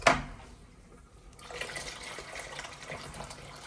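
Hot boiled water poured into a container for stripping old wallpaper, a short click then a soft splashing, gurgling fill that grows steadier and louder toward the end, close by, with no talking.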